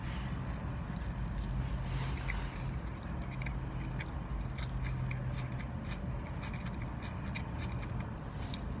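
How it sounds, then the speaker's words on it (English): A bite into a McDonald's fresh beef Quarter Pounder with cheese, followed by soft, close chewing and squelching of the bun and patty, faint and intermittent over a low room hum. "Let's take the first bite, guys."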